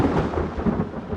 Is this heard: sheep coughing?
no